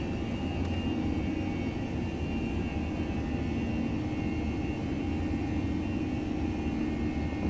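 ToLiSS A321 jet engines at climb thrust in X-Plane 11, a steady, loud, unbroken roar with a low rumble and a faint high whine that holds constant throughout, with no voices.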